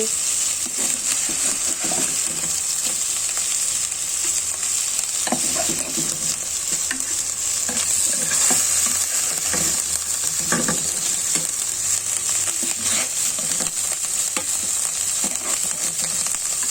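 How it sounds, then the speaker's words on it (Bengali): Fish fries in a pan with a steady, close, crackling sizzle that continues unbroken for over fifteen seconds, with occasional soft stirring and scraping sounds on top. "দেখুন আমার মাছটা ভাজা হয়ে গিয়েছে আমি মাছটা তুলে নিচ্ছি"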